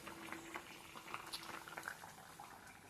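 A pot of fish curry cooked with spices, garlic and chilli simmers with a soft, continuous bubbling, faint and close, with occasional small pops and no voices.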